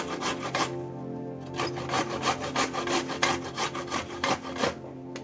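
Raw amla (Indian gooseberries) are grated by hand, producing quick, rhythmic rasping strokes, close and clear, with no one talking.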